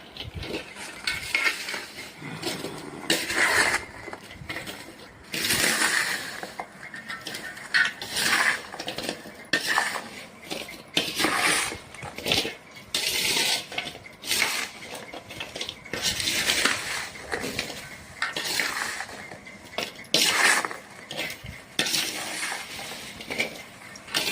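Homemade village mango pickle being stirred and mixed in a pot with a metal spoon, producing steady scraping, clinking and wet churning sounds in irregular bursts throughout, close and moderately loud.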